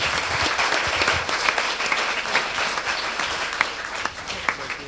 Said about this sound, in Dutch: Oké, applaus, Team Looney Tunes!